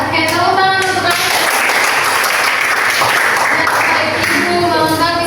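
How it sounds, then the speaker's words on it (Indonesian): A classroom of students applauds loudly and continuously after a presentation, dense clapping with a faint musical or vocal tone running beneath it. "tepuk tangan untuk kalian"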